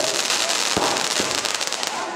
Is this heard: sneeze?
no